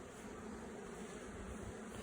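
Steady, dense buzzing of many Carniolan honeybees close by at an apiary, a continuous hum with no breaks and no voices.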